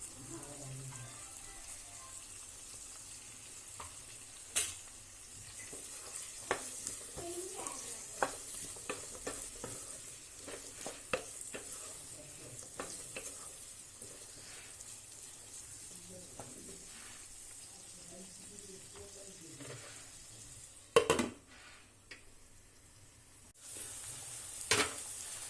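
Turmeric stirred into a frying pan over a quiet background sizzle, with many small scrapes and taps of a spoon against the pan and a louder clatter of handling near the end.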